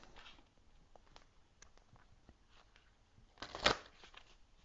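A tarot-style oracle deck is shuffled and a Metatron card drawn: quiet riffling and soft card rubs, then one louder, brief flurry of shuffling near the end, faint and close with no talking.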